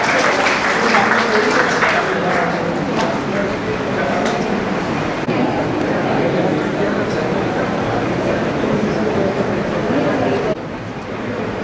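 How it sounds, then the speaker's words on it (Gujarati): Audience applause welcoming a doctor at a senior citizens' community gathering in Dahisar East, a dense steady clapping that fills the whole stretch at fairly close range before dropping slightly near the end, with some voices mixed in. "તાળીઓ."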